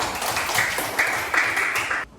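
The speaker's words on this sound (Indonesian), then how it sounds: "beri tepuk tangan untuk kalian" A classroom of students claps together for about two seconds, a dense patter of hands that stops abruptly at the end.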